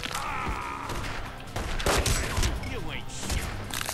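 Gunfire in The Godfather video game: rapid bursts and single shots crack in quick, uneven volleys, with game voices murmuring underneath.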